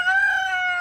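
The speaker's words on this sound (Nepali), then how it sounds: "अनि यहाँ चाहिँ लोकल कुखुराहरू हो यो चाहिँ है, एकदमै लोकल कुखुराहरू।" A local farm chicken in Nepal gives a single short, clear, tonal call lasting under a second, close and alone.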